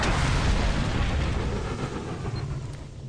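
Rocket explosions in the PC game Doom 3 BFG Edition, a loud, deep rumbling blast that decays slowly over a few seconds.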